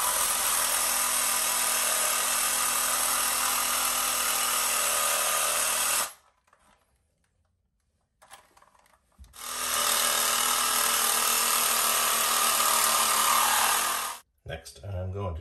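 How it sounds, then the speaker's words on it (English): A reciprocating saw cuts into a toilet flange pipe set in a cement floor, giving two loud, sustained buzzing runs of about six and five seconds separated by a quiet pause, then a brief restart at the end. "use your reciprocating saw and cut into the pipe on the sides like this"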